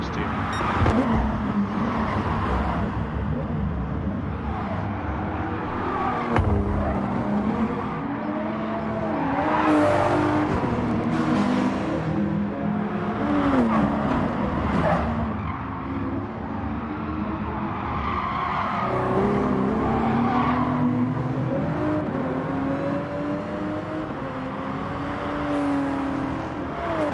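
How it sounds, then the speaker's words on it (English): Race car engines roar and whine continuously, pitch rising and falling as cars accelerate and pass, loud and close, with a voice talking over them throughout. "Listen to the different sound of these cars too."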